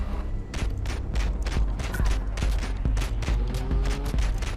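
Rapid bursts of weapon fire from a ship's gun in the roguelike shooter Riders of Rhea, loud and close with sharp repeated shots in fast clusters over a rumbling background.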